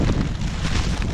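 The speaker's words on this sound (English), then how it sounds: "very windy if you can't hear me." Strong wind buffeting a microphone outdoors in very cold weather, a loud continuous low roar and rumble with gusty surges and no clear voice.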